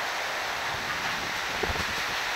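Strong typhoon wind on Burias Island during Typhoon Uwan roars as a steady, broad, hissing rush with no gaps, hitting the microphone hard, and nobody speaks.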